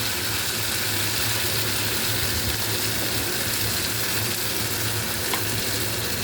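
Fish frying for a Bengali fish curry: a steady, close, continuous oil sizzle and crackle holds evenly throughout, with no talking.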